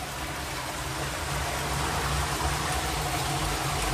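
Water trickles and drips inside a cave near the end of a tunnel, a steady broadband wash of running water, fairly close and even, with no speech over it.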